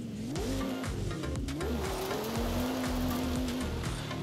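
A powerful car in the racing game Forza Horizon 5 revs loudly and steadily, its engine pitch climbing and sweeping through gear changes over a constant rush of road noise.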